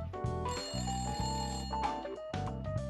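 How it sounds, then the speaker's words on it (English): A telephone rings in the Layton Brothers Mystery Room video game, a repeating electronic ringtone pattern playing loudly over layered game music for about three seconds. "Oh, that's the phone."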